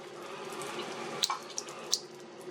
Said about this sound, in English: You want the water running kind of slowly,